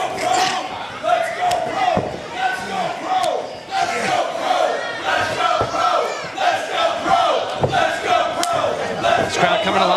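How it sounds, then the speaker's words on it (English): Wrestling crowd at an NWA Powerrr show chanting "Let's go pro" in a loud, rhythmic, sustained roar from many voices, with sharp claps and shouts throughout. "This crowd coming alive for Rhett Titus, chanting "Let's go pro" for the professionals."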